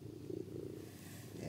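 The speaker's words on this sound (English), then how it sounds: "you can hear a little bit of purring there" A cat purrs softly while being stroked around the ears and under the chin, a faint low rumbling purr that runs steadily through a short, quiet moment.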